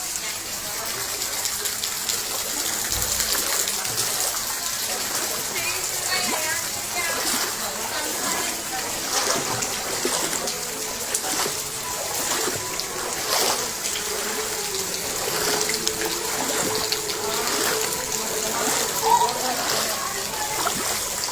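Floodwater runs inside homes in Yakutpura constituency, a steady loud rushing and splashing gush that continues throughout, with faint voices in the background.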